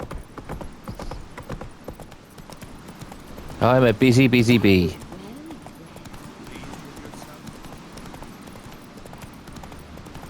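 Hooves of Roach, the horse in The Witcher 3, clop in a steady running rhythm throughout, while someone speaks briefly over them in the middle.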